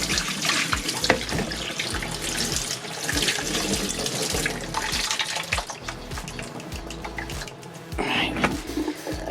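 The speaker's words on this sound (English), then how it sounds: "With cold water, I'm just going to rinse it off." Cold water runs steadily from a kitchen tap into a sink to rinse something off, a continuous close splashing stream with brief shifts as the item moves under it, no talking.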